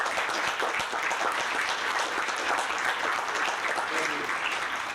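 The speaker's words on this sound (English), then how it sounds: "So if you would all join me in a nice round of applause for our team" An audience at a town meeting applauds the town's road department team, a full, even round of clapping that holds steady at close range for about five seconds.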